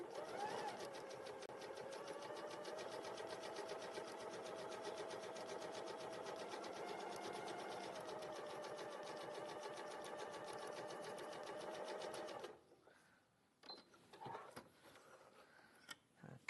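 A sewing machine runs continuously for about twelve seconds, a close, rapid, even mechanical whirr of stitching, then stops abruptly, leaving faint handling clicks and rustles.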